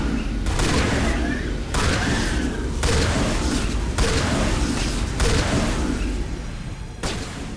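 Repeated booming blasts from thorium grenades and gunfire in a Mass Effect battle, several loud broadband bursts spaced about a second apart with a continuous roar beneath and some voices mixed in.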